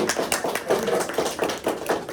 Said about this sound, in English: give another round of applause to Isadora